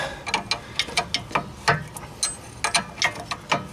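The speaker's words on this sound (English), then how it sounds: "So I'll probably try to get the ratchet through there." A ratchet wrench clicks in quick uneven bursts while working on a Ford Fusion car part, close and crisp with short pauses between strokes.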